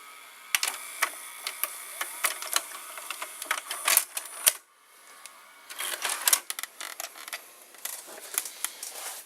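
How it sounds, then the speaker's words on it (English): A Samsung VCR ejects a cassette, producing a string of close mechanical clicks, whirs and clunks from the tape mechanism, with a brief lull midway before more clicking and rattling resumes. "now let's eject the cassette."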